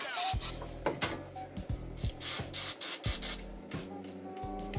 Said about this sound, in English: just got some of this gas leak detection spray